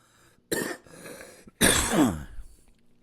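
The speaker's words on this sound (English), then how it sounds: "Cough coming." Two harsh coughs close to the mic, the first short and the second longer and raspier, separated by a brief quiet pause.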